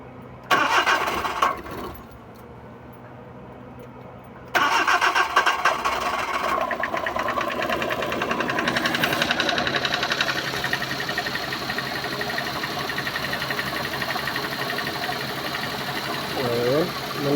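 Suzuki Multicab (DA64/DA17 series) engine cranking and catching with sharp bursts, then settling into a steady buzzing idle heard up close, with a voice speaking briefly near the end.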